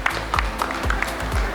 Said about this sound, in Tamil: ஒரு நல்ல அரங்கம் நிறைந்த கைத்தட்டல் கொடுங்க